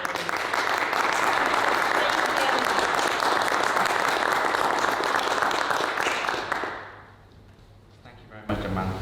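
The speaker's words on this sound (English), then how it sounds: "a big round of applause for him" Loud, sustained audience applause fills a research talk event as the next speaker comes to the stage. It fades out near the end, then a short sound comes in after the hush.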